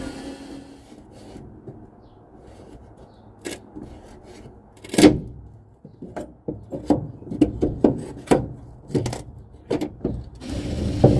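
Scraping and ratcheting of a screwdriver working on wooden wall panels, quiet at first, then a run of irregular rasping strokes and knocks that grows closer and louder.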